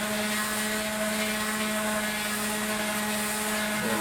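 A stave drum shell spinning on a lathe while being sanded gives a steady, continuous whirring hum with sustained tonal lines and broadband hiss, close and even throughout.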